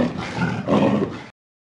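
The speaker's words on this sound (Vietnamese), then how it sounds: "Con hổ." A tiger's roar, a loud rough growling blast in two surges lasting about a second, heard alone and close before cutting off to silence.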